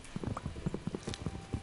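Quiet, steady clip-clop of horse hooves trotting in a quick, regular rhythm in Minecraft.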